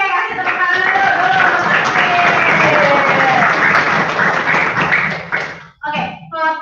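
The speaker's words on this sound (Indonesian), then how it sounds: "kasih tepuk tangan dulu" A classroom of children claps loudly together for several seconds, the steady applause mixed with voices and cheering, then breaking off into brief talk near the end.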